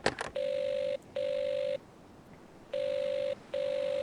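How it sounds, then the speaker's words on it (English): Telephone line tone in an Agatha Christie mystery game, a steady electronic tone pulsing in a double on-off pattern, two bursts, a pause, then two more, clear and alone. "I couldn't tell if that was a busy signal or just a British dial tone."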